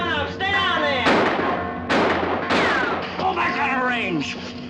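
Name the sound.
gunfire in 1954 western film Silver Lode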